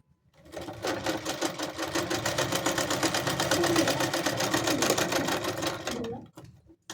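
Sewing machine stitching a baby cap: a fast, even mechanical chatter starts after a brief quiet, runs steadily and close for about five seconds, then stops, with light clicks at the end and no talk over it.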